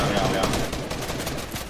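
Rapid gunfire in a Fortnite Season 8 trios tournament match, dense and continuous at a steady level throughout, with players' voices mixed in.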